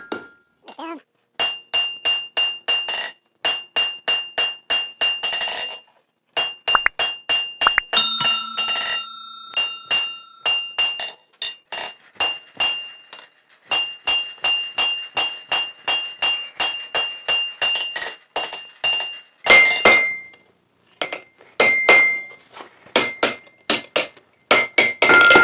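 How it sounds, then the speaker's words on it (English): A hammer strikes a steel broom handle on an anvil in rapid, ringing bursts of blows with brief pauses between, loud and close, metallic clinks carrying throughout. "Start out hitting on the diamond, hit it square, make everything square when you taper them."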